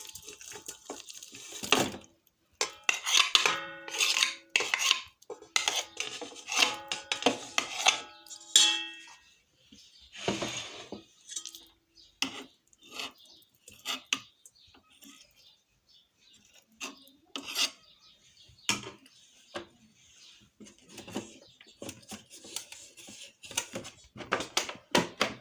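Ghee is beaten by hand in a bowl for Eid cookie dough, giving rapid, rough scraping and slapping strokes in bursts, loud at first and then sparser and fainter, with no talk.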